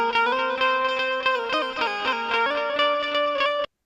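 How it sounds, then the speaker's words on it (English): An Indian banjo sample loop playing in FL Studio, a bright plucked melodic line with rich overtones and a quick rhythmic phrase, heard alone for a few seconds before stopping abruptly. "This is the Indian banjo"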